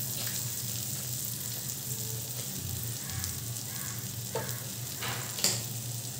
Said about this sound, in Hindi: एक नॉनस्टिक पैन में हम बटर को हीट कर लेंगे।